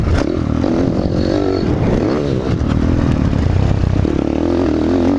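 A dirt bike rides a motocross track, sliding into the corners with a continuous loud, close engine drone that rises and falls with throttle changes over clattering and scraping.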